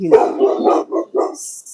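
Dogs bark outside a house in a quick run of loud, close barks and yips, leaving a few brief gaps, followed by a higher whining or squeaky tail at the end.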